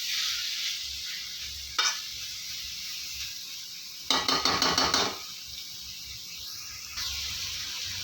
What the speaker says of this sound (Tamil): ஒரு அஞ்சு நிமிஷம் அப்படியே சிம்லேயே வச்சு நல்லா வதக்கி விட்டுருங்க